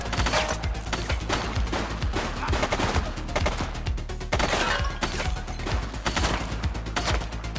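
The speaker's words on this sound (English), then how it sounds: "She's shooting!" Gunshots in the police video game The Precinct, a sustained stretch of rapid automatic and single shots firing in tight bursts, loud and continuous with little pause.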